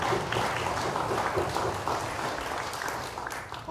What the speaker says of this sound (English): Give a big round of applause to Representative Feki